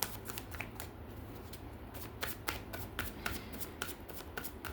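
Tarot cards are shuffled by hand in a rapid, uneven run of crisp riffling flicks and soft slaps, close and fairly quiet.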